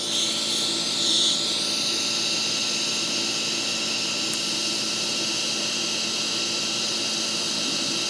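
Yes Welder 135 Flux Pro flux core welding a stainless steel exhaust, a steady close hissing and buzzing arc that runs unbroken at constant loudness.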